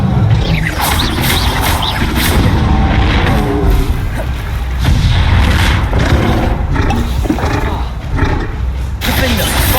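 Confringo fire spell explosions in Hogwarts Legacy combat, loud booming blasts and roaring bursts over steady battle noise, with a voice speaking through the chaos.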